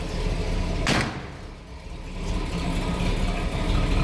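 A 1963 Buick Riviera's Wildcat V8 engine idles with a low, steady rumble nearby, a brief sharper mechanical sound breaking in near the start.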